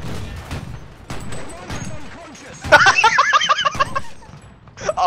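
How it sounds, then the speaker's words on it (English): Loud burst of booming cannon fire in a naval battle video game, a ship's broadside erupting after tense chatter, a dense crackling volley that rumbles on for a couple of seconds; players talk and laugh excitedly around it. "Give him the broadside!"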